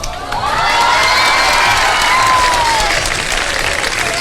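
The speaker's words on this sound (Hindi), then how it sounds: "बहुत सारी तालियां" Studio audience at a televised Ramadan sehri show bursting into loud, sustained applause mixed with cheers and whoops, filling the room evenly for several seconds.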